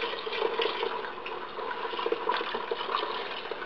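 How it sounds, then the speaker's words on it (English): White vinegar pours steadily into a container while making homemade laundry detergent, a continuous splashing, gurgling flow that stays fairly constant and close throughout. "the next step is you pour 6 cups of white vinegar into it"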